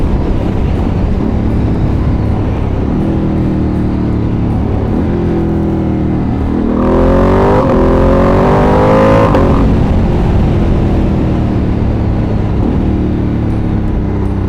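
2025 Ducati Panigale V2S engine revving on a road ride, a loud steady drone with a rising, climbing whine through the middle before settling back to cruising pitch.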